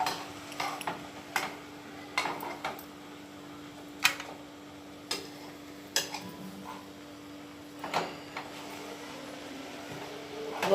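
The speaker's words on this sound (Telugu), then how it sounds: "ఒక చపాతీలో ఇంకొక చపాతీ అట్లా స్ట్రైట్గా వేసుకొని ఇట్లా కట్ చేసుకుంటున్నాము" A knife slicing through stacked chapatis for samosa makes a string of sharp, scattered taps and scrapes against a board, close and fairly quiet over a steady background hum.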